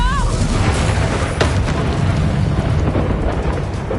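A booming explosion spell blast, Expulsum, in the Hogwarts Legacy video game, a loud rumbling burst under a shouting voice amid continuous game noise.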